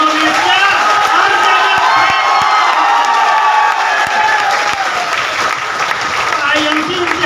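A large indoor business meeting audience claps and cheers, loud sustained applause with shouts and whoops rising from the crowd throughout, steady from start to finish.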